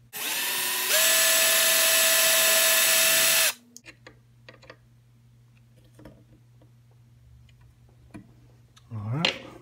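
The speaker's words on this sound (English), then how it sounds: "the last step to the drilling procedure is drilling out the trigger" A power drill bores the rear trigger screw hole in a muzzleloader stock, running loud and steady for about three seconds with a pitch rise partway through, then stopping abruptly, followed by quiet handling clicks and a brief scrape.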